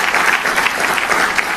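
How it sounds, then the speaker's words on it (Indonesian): A church congregation applauds, a dense, steady wash of many hands clapping at once, loud and close, with no talking over it. "Tepuk tangan buat Tuhan."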